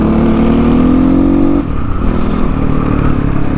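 A CX 250 SE dirt bike with a racing exhaust drones loudly on a highway ride, its engine note climbing steadily before dropping sharply partway through as if shifting, then settling into a rougher, continuous roar.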